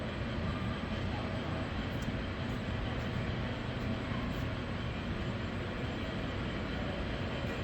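A steady, heavy rumble of a Pennsylvania Railroad GG1 electric locomotive running close by, broadband and continuous with no pauses, like a train rolling along the track.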